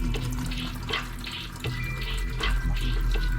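Old DCT transmission fluid from a BMW E92 M3 trickling and spattering out of the drain into a pan, a steady liquid splashing with intermittent louder gushes, close and without talk.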